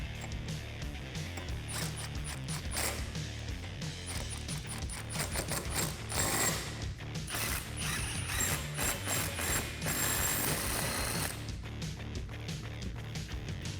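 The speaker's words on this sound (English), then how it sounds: "Once you got those hand threaded, you can drive them home." Ratchet wrench driving hex head bolts home while fitting a Bestop TrekStep rear-mount side step to a 2015-2019 vehicle, rapid clicking pawl bursts in repeated runs, close and clear, no speech.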